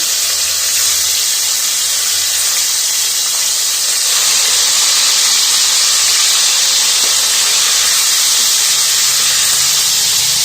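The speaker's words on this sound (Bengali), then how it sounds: "মাংসগুলো ভেজে নেব।" Chicken, coated in salt and turmeric, sizzles loudly in a hot pan, a continuous dense hiss of frying that stays steady from start to finish.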